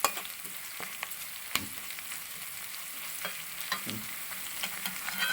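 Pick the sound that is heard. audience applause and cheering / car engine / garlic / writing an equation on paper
garlic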